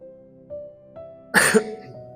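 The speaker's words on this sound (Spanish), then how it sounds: "Perdón si voy a toser de vez en cuando" A single sharp cough sounds up close during a sermon, breaking through a low steady hum and a couple of soft knocks.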